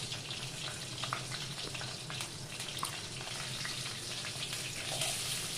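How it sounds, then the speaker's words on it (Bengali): Hilsa fish heads rubbed with salt and turmeric fry in hot mustard oil in a wok, giving a steady, fairly quiet sizzle with light crackles throughout and no talking. "নুন হলুদ দিয়ে মাখানো মাছের মাথাগুলো ভাজার জন্য তেলের মধ্যে দিয়ে দেবো"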